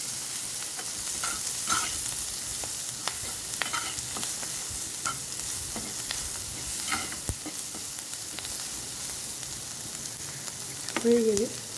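Whole cumin seeds fry with onions in butter while preparing butter chicken. A continuous close sizzle runs under intermittent clinks and scrapes of a stirring utensil.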